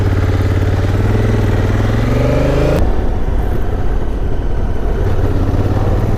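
A motorcycle engine rises in pitch as it revs, then cuts off abruptly at the gearshift into first and settles into a lower, steady running note as it pulls away in Zion National Park. It stays loud and close throughout.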